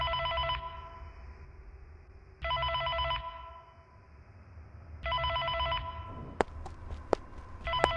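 Telephone ringing for the phone guy in the horror game Five Nights at Freddy's: Dormitabis, with three long bursts of a shrill electronic ring separated by pauses and a few sharp clicks near the end, moderately loud over a low ambient hum.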